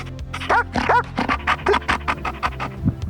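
A dog pants rapidly and rhythmically close by, with a few soft yips and whimpers mixed in.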